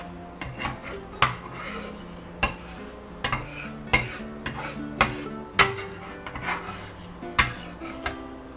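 Scrambled eggs pushed around a moderately hot skillet, with repeated sharp scrapes and clinks of a utensil against the pan in an irregular rhythm over a soft background, close and fairly quiet, no talking.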